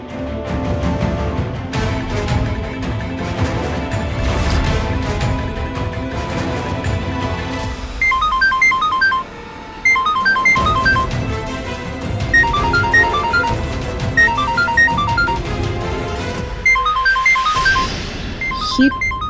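A melodic phone ringtone of an incoming call repeats in bright, evenly spaced tone patterns over a dense, loud dramatic music bed, with a brief dip midway and a rising swell near the end.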